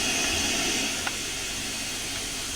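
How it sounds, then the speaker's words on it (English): Union Pacific 844 steam locomotive gives off a steady, loud broadband hiss of steam throughout, up close with no talking. "So this is the 844. Very, very loud steam engine."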